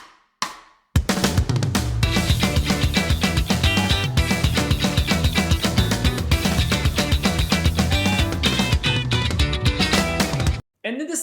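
A guitar plays octaves at a brisk tempo, stepping from E up to G in a fast, steady run of bright plucked notes that is loud and close, with no talk.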